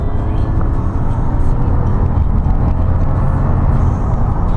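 A supercharged Toyota Crown Royal Saloon GS131 with a 1GGZE engine pulls hard in second gear, a steady loud rumble and whir from inside the car.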